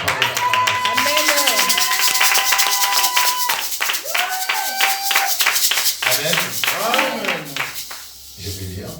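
A church congregation claps together in steady, loud rhythm during worship, with singing voices carried over the clapping throughout.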